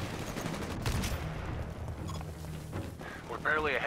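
Gunfire and a frag grenade blast in the Titanfall shooter game ring out amid cluttered battle noise, with sharp bursts and a booming hit near the start, while a voice talks over the action.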